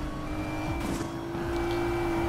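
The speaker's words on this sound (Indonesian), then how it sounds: "Mobil polisi ngebut banget." A police car speeds along in the Need for Speed Payback racing game on PS5, its engine a loud sustained roar with a rising whine and steady drone, no talking over it.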